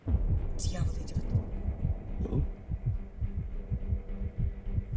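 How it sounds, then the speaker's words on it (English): A thumping heartbeat sound effect pounds in a fast, regular double-beat rhythm, loud and close throughout, with a brief exclamation from a voice over it. "Why is my heart beating so fast?"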